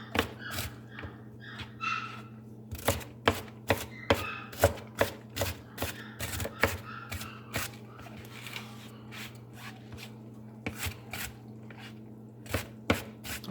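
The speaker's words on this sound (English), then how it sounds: "Chop this up real good." A knife chops vegetables for dumplings on a cutting board, giving a quiet run of sharp, uneven knocks over a low steady background hum.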